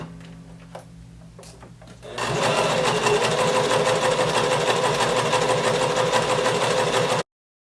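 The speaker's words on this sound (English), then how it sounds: "So go ahead and lower your needle, start sewing" A sewing machine stitches the side seam of a homemade skirt at a 1/2 inch allowance, starting after a few quiet clicks and then running in a fast, even, loud mechanical rattle for about five seconds before stopping abruptly.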